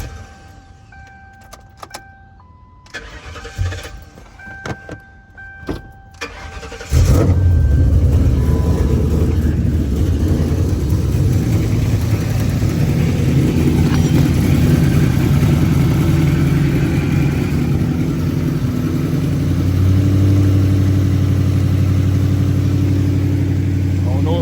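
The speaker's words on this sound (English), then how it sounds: "we're finna start the car and see if it's leaking or not" Keys jingle and a starter clicks, then a Ford Crown Victoria's engine catches and settles into a loud, steady idle that keeps running close by.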